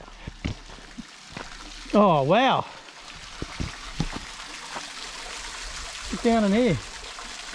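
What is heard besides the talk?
small creek water flowing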